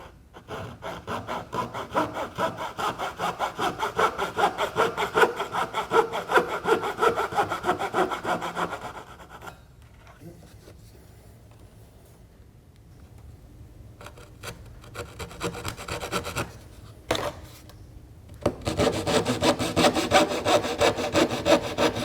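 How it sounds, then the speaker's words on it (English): A hand saw cuts a cope into a piece of wood moulding, steady rhythmic rasping strokes up close, easing off midway to quieter, lighter scraping before the full sawing strokes resume loud at the end. "he's about to demonstrate to us how to properly cope a piece of molding"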